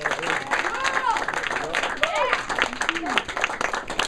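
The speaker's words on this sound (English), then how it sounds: "one more round of applause for Hayden" Applause from a gathered crowd for Hayden at a charity head-shaving event, a moderate spread of clapping with voices talking and cheering over it throughout.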